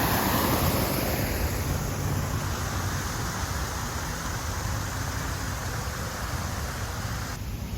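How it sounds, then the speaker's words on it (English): An outdoor waterfall at Truett's Luau restaurant in Fayetteville, Georgia, gives a steady, even rush of falling water that runs unbroken and fairly close, with no voices over it. "Right over here is that waterfall."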